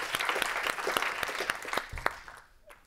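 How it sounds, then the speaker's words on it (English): Applause from a conference audience after a session on impact storytelling, a few loud distinct claps over a sustained clatter of hands that thins and fades out near the end. "Can we get a round of applause for everyone opening themselves up?"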